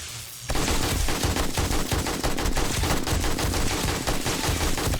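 SMG fire in the zombie survival game 7 Days to Die, a sustained rapid automatic burst of loud cracks that runs unbroken after a brief quiet start.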